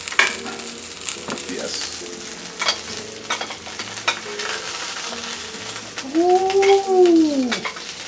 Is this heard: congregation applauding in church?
no